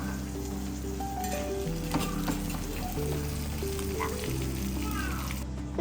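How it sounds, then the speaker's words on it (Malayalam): Fish fries in a pan in a home kitchen, a dense, even sizzle running throughout at moderate loudness, with a steady low hum underneath. "ഫിഷ് പൊരിച്ചോണ്ടിരിക്കുന്നതേ ഉള്ളൂ"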